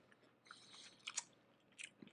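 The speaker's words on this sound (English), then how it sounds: "you should chew really close to the mic" Crunchy food bitten and chewed right up against the mic, with several sharp crisp crunches and wet mastication sounds in quick irregular bursts, fairly quiet overall.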